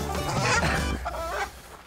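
Chickens cluck close by in a busy, overlapping flurry, their throaty calls dense at first and then thinning out.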